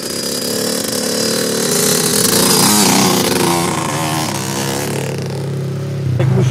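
A quad bike (ATV) engine revs hard and close, climbing in pitch as the throttle opens uphill, with a brief drop and renewed roar near the end.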